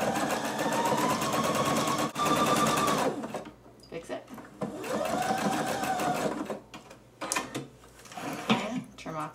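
A sewing machine runs zigzag stitches along the cut edges of a sweater being refashioned into a beret and arm warmers, in two steady whirring bursts with a pause between and a few clicks at the end; someone talks over it.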